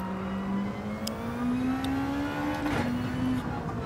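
A race car engine drones steadily in an online Gran Turismo 7 Sport Mode race at Circuit de Spa-Francorchamps, its pitch climbing smoothly as it accelerates, then briefly dipping at a gear change before rising again.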